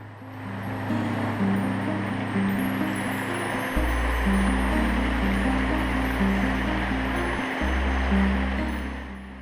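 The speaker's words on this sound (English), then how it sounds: "This is quite a typical stretch of this mountain stream." A moderate-gradient mountain trout stream where cutthroat are caught flows steadily and continuously, a broad close rushing wash with no voices over it.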